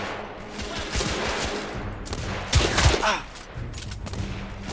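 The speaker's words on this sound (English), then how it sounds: "Well, at least they've only got pistols" Enemy pistol gunfire in The Order: 1886 on hard difficulty, with scattered overlapping shots in a rapid fusillade over a steady game background, including a louder burst near the middle.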